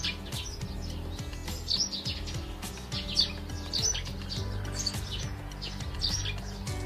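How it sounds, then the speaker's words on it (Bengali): Many birds chirp and twitter in dense, overlapping calls around a Kali temple set among shady trees, steady and fairly close, with no talking. "পাখির কিচিরমিচির শব্দে একটা মনোরম পরিবেশ"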